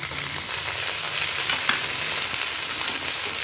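Mini mangoes and onions fry together in a pan with a dense, continuous sizzle, close and fairly loud, and no pauses.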